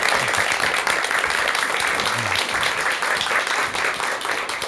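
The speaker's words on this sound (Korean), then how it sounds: "여러분 큰 박수 부탁드리겠습니다" An audience at a lecture on overcoming the fear of death applauding steadily, a dense, even wash of many hands clapping throughout with no break.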